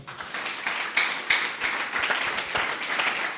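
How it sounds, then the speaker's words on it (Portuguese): A church congregation claps in a fairly quiet, loose burst, with scattered individual claps and taps standing out rather than a full, dense ovation. "Aplauda o Senhor."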